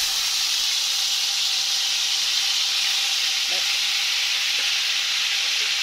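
Liver frying in very hot oil, Alexandrian style: a loud, steady, close sizzle and hiss that holds unbroken throughout, with a few faint stirring knocks partway through.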